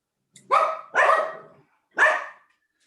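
Dogs in a house barking at strangers, three loud, close barks in quick succession, with no talk.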